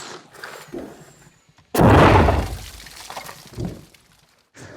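A mortar fires as a round is dropped down the tube: a single loud, booming blast erupts suddenly, followed by a rumbling, debris-like wash that slowly fades, with faint noises before and after.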